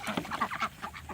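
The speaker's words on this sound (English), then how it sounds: "Ducks aren't exactly tame." A few quick, nasal quacks from ducks nearby, fairly soft, in a short irregular burst.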